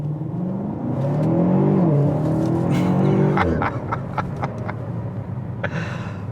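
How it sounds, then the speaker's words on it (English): A 2021 BMW X6 M Competition in its default modes with no sport settings engaged revs up from standstill with a rising engine note that swells for a few seconds, then sharp shift or exhaust pops as it pulls away. "Let's do a quick acceleration test."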